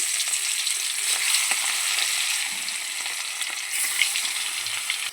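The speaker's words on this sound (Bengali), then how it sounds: "মাছে নুন হলুদ মাখানো হয়ে গিয়েছে, কড়াতে তেলও গরম হয়ে গেছে। মাছগুলো ভেজে নেব।" Fish rubbed with salt and turmeric fries in hot oil in a wok, giving a steady, close sizzle that runs unbroken throughout, with no talking.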